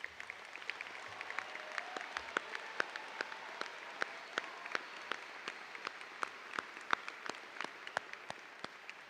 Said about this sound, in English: Will all students who have earned summa cum laude please stand now so we may applaud your achievements?